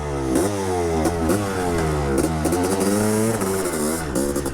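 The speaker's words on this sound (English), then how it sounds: "I'm riding an RC500." A Honda RC500 factory two-stroke motorcycle engine revs hard and loud up close, rising in repeated bursts with brief dips between, a raspy crackling tone throughout.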